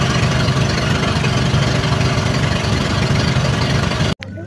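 A motorcycle engine idles up close with a loud, steady, rough low drone and even vibration for about four seconds, then cuts off abruptly at the end. No voices are heard.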